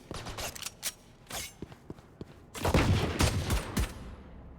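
Gunshots ring out in a Valorant esports match: a few scattered single cracks at first, then a tight cluster of rapid shots in the second half, crisp and fairly close, with no voices in between.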